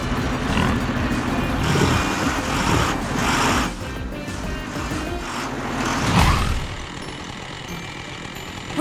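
Cartoon trucks speed up in an animated chase, giving a steady loud engine roar with surging swells that ease off near the end.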